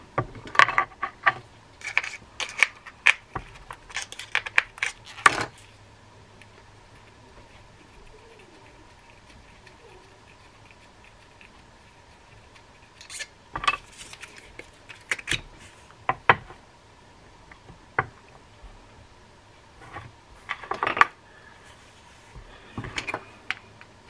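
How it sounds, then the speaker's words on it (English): Screws are tightened while a Shakespeare Sigma Super R7 spinning reel is serviced, giving small close metallic clicks and scrapes in scattered bursts separated by long quiet gaps. "just finished tightening those screws now"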